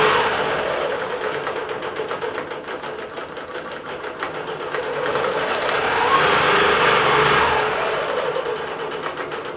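A computerized quilting machine stitches swirl patterns across a quilt, giving a steady, fast mechanical whir with a fine rapid needle chatter that swells slightly louder partway through, continuous and alone with no talk.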